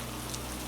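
Steady rain falls in an even, soft hiss that stays quiet and unbroken, with no voices over it.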